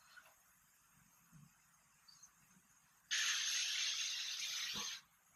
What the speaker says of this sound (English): And spray your pan, and then pour in your mix.